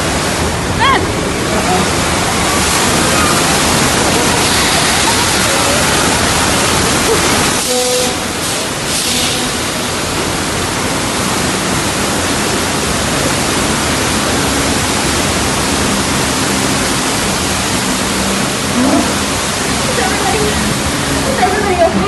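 A continuous, loud roar of rushing and splashing water from a water effect at a Universal Studios Hollywood film-shooting show, with a brief dip partway through and people talking over it.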